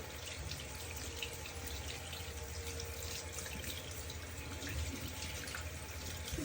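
Water runs steadily to rinse shampoo foam from hair during a first wash after a hair transplant, a constant, fairly quiet gushing flow with no talk.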